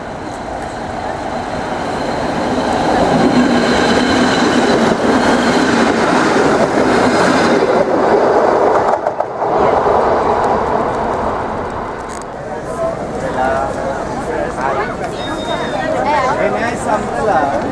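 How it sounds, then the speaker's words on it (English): A train rumbles along the rails in Italy near Pisa, a loud continuous roar with rhythmic clatter that swells and fades, with people talking over it. "Waiting for a train."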